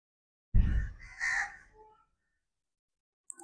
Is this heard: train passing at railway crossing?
no